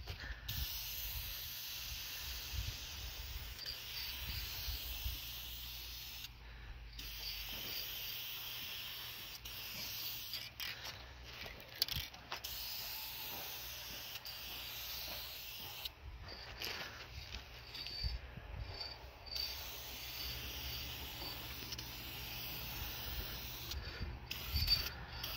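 Spray paint hisses onto a hay trailer extension for a second coat: a steady, faint, continuous spray broken by brief pauses, close and alone without speech.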